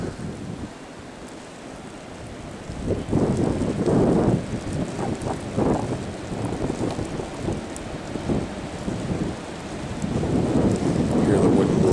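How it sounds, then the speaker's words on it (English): Wind roars through trees during a blizzard in strong, rising gusts. The steady rushing noise fills the clip and swells again near the end. "Hear the wind blowing through the trees."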